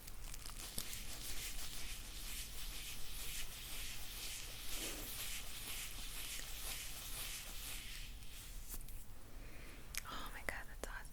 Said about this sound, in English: This feels good actually, just like rubbing it in the palm.